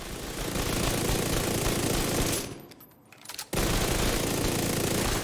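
SMG fire in the Division 2 video game, with rapid, loud sustained bursts that cut out briefly for about a second and then resume at full intensity. No talking is audible.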